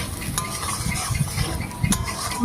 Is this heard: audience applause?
no